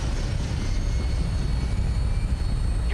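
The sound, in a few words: aircraft taking off, from the video game Fallout 4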